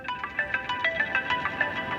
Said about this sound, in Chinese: 你老公来电话了